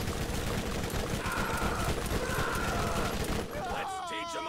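A Torque gun in Borderlands fires in a dense, rapid burst of loud, crackling shots for about three seconds, then cuts out as warbling electronic game tones take over.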